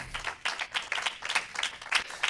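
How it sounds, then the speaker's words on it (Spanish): Congregation applauding in a church service, a short burst of bright, dense clapping with uneven pulses, fairly close and loud with no talk over it. "Denle un fuerte aplauso"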